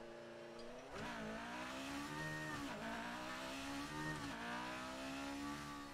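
Racing car engines in a PS4 video game roar and rev continuously, pitch rising and falling through repeated gear shifts, with tires squealing faintly; no voices.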